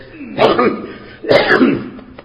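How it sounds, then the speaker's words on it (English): Two hoarse, chesty coughs close to the microphone, about a second apart, each a sharp burst followed by a rough trailing rasp. "Excuse me, that's the North Carolina cough."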